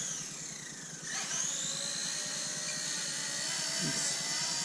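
A Blade Nano S2 mini RC helicopter lifts off and flies, its tiny rotor and motor giving a steady high-pitched whine that rises in pitch as the throttle increases, close by and continuous.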